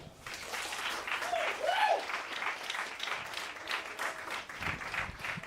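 Applause from the audience at a bench press competition, a steady crowd clapping at moderate volume with a few voices and a brief vocal sound rising above it early on.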